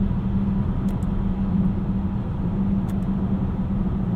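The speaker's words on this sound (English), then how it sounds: "Let's throw it into manual mode here." Engine of a 2018 Volvo XC60 T6 AWD R-Design shifting in manual mode, heard from inside the cabin as a steady low drone and road rumble with a faint rev blip, with no talk.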